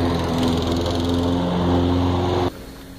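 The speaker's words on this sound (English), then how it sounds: "lawn mower." A lawn mower engine runs steadily and loudly up close, holding a strong droning hum for about two and a half seconds before cutting abruptly to a quieter idle.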